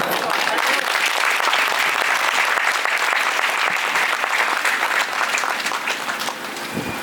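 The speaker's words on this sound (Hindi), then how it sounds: "अरे ताली कम हो गया तो और" A church congregation claps loudly and continuously during a Hindi sermon, dense sustained applause that fades slightly toward the end.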